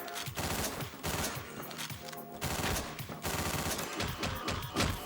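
Assault rifle gunfire in the video game Hotline Miami, dense rapid automatic bursts over a loud, busy game soundtrack, continuous across the whole stretch.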